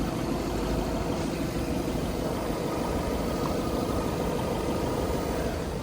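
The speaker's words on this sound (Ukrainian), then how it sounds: "двигун працює гарно" A steady, rumbling diesel engine of a Skoda Octavia A7 idles continuously at close range, a low even drone with no other sounds over it.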